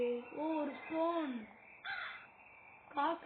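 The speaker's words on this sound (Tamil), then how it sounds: "காக்காங்க," Crows caw on a rooftop, giving a series of harsh, drawn-out calls in bursts with short pauses, fairly near and clear.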